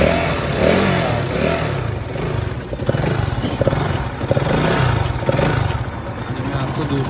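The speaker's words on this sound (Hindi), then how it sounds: "ये मैंने गाड़ी न्यूट्रल करी, स्टार्ट कर रहा हूँ।" A KTM RC 200 motorcycle with a side stand fault that stops it taking gear runs loudly and close, its engine chugging and revving steadily throughout with a clattery mechanical edge.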